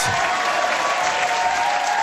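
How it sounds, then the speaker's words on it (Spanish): Dense crowd applause for a Venezuelan podcast audience, a steady wash of clapping held at even loudness throughout the short stretch. "Los aplausos para ustedes mismos."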